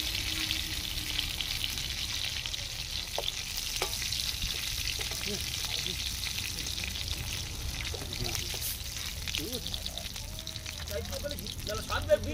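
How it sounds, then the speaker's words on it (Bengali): Prawns fry in hot oil with a soft, continuous sizzle and occasional stirring clinks, fairly quiet and close, running steadily throughout. "চিংড়ি মাছ রেডি, প্রায় ভাজা যাই বলেন, নামিয়ে নিচ্ছি।"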